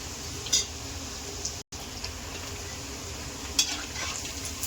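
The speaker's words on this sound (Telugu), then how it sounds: "కొంచెం బ్రౌన్ కలర్ వచ్చేదాకా కలుపుకోవాలి, వేపుకోవాలి." Country chicken pieces stirred and frying in a pan for pickle, a steady low sizzle with occasional scraping stirs, close and moderately quiet, no talking.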